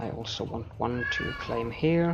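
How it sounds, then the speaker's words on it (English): A cat meows several times nearby, drawn-out and rising, while someone talks over it. "pardon the cat."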